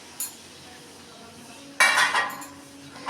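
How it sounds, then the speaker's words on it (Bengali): Fried bitter gourd pieces are tipped into a cooking pot, giving a brief clink early on and then a louder clatter and scrape lasting about half a second, close by in an otherwise quiet kitchen. "দেখো করলা ভাজাগুলো এবার এর মধ্যে দিয়ে দিলাম"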